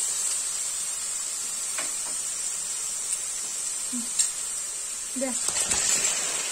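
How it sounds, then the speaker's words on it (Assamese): A thin, steady sizzle of hot oil hisses in a pan as chicken pieces fry, with a few brief clinks and soft knocks of a utensil near the end. "এতিয়া মই ইয়াতে মাংসখিনি দি দিওঁ"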